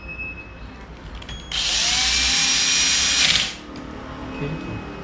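A power drill whirs at high speed for about two seconds while drilling into an RC drift car toe arm part, a loud, even, close whine that starts abruptly and tapers off, with quiet room noise around it.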